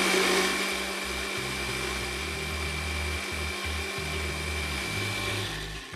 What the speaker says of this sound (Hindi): थोड़ा सा और ब्लेंड करते हैं